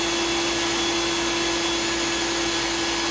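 An electric drill boring into a 4x4 actuator valve on a 1990 Wrangler, a steady high-pitched whine with a constant tone held throughout, close and continuous with no talking.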